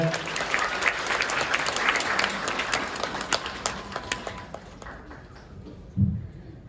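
Wedding guests at a hall ceremony applaud steadily with sharp individual claps, tapering off toward the end before a brief low thump.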